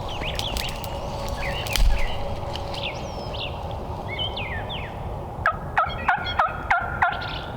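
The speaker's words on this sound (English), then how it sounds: "Tons of turkey." Wild turkeys gobble during a spring turkey hunt in Wisconsin, with scattered distant calls and then a close run of six or so sharp, evenly spaced bursts over a quiet outdoor background.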